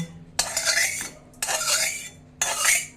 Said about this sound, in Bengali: এই যে এই তরকাটা করে রেখেছিলাম, এইটা এর মধ্যে ঢেলে দিলাম